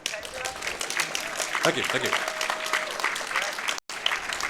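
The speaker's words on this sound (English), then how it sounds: "you can clap, don't be scared" An audience at a gaming convention speedrun event claps steadily, with sustained applause filling the room while someone talks over it.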